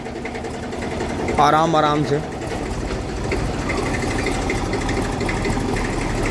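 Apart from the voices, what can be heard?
tractor engine running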